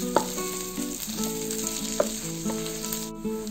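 Sliced onions frying in hot oil for catfish dum biryani, a steady close sizzle with a few sharp crackles and spatters across the clip, no voices.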